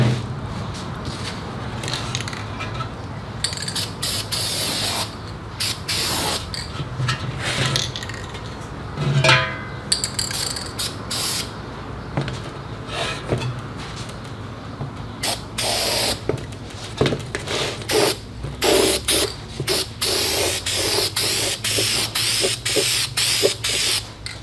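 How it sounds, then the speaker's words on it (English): A steady hiss of spray paint on an early Chevrolet valve cover runs throughout, broken by frequent short bursts and clicks, with light metallic clatter in the background. "Spray from one side"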